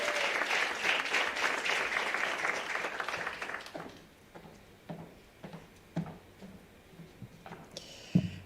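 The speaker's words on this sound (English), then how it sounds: "we just want to give her the biggest round of applause for coming and joining us today" Audience applause at a women-in-tech meetup, full and lively for the first few seconds, then thinning out to scattered claps and a few sharp final claps near the end.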